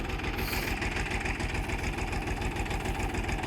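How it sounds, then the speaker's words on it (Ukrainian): A tractor engine with 150 engine hours idles close by in a village, with a steady, rhythmic low chugging and knocking pulse throughout. "Ось так тракторець працює, 150 мотогодин."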